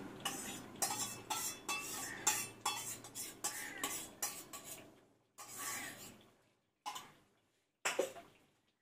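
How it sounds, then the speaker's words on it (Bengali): Chicken being mixed with yogurt using a large spoon in a pan, with repeated scraping and clinking strokes in a steady rhythm, close and clear, then a few spaced single scrapes after a short pause. "বড় চামচে 2 চামচ দইটা দিয়ে দিব"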